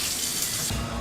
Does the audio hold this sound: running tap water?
yes